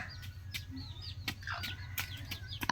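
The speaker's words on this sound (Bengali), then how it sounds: "আয় আয় আয়, এই যে মুরগির বাচ্চা, এই যে 2টা আর এই যে কটা।" Young chicks chirping outdoors, faint scattered high peeps and short calls at irregular intervals, with a few sharp clicks and low background hum.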